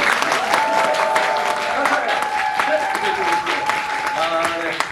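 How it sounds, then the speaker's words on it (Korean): An audience applauds during a stage greeting for a musical, the clapping steady and fairly loud throughout while a speaker talks over it. "박수, 박수 부탁드립니다."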